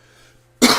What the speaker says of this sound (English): After I cough for a second.